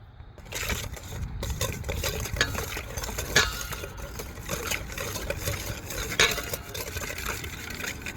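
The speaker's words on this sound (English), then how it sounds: "next we are going to whisk until smooth" Pumpkin pie filling whisked in a bowl until smooth, a steady scraping, stirring swish with occasional light clinks against the bowl, close and continuous without talk.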